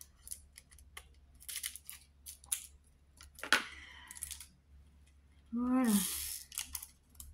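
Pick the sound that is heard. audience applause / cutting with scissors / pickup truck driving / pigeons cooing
cutting with scissors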